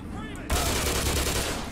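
Rapid submachine gun fire in the first-person shooter Black Mesa breaks out abruptly after a quiet moment and continues as a loud, dense burst of shots.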